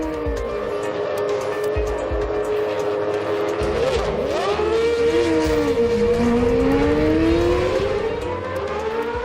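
Formula One race cars launching at a race start, with loud, high engine whines rising and sweeping in pitch as several cars accelerate hard, overlapping with one another.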